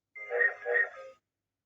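Voice mimics Percy's train whistle from Thomas the Tank Engine: a short, nasal two-part toot lasting about a second, close and clear, with no other sound around it.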